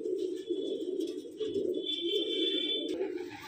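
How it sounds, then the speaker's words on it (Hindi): Pigeons of a pure bloodline, kept in Delhi, coo in a steady low murmur, with a faint high electronic tone sounding in the background partway through. "देखो कबूतर काफ़ी हैं"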